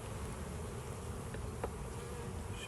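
Honeybees buzz in a soft, continuous drone during a hive inspection, a few brief clicks and knocks standing out faintly against the quiet hum.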